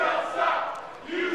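A wrestling crowd at a live women's invitational tournament cheers for Frankie, a loud sustained roar of many voices that rises and dips slightly across the moment.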